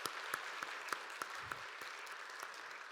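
A church congregation at a Sunday worship service applauds in welcome for a newly appointed piano accompanist, sustained even clapping from a crowded room at moderate distance, with a few sharper claps standing out.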